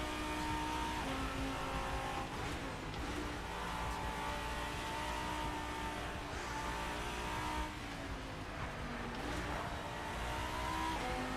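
A GT3 race car engine in the video game Assetto Corsa drones steadily, its pitch rising and dropping as it shifts and accelerates, with occasional tire noise, fairly quiet throughout.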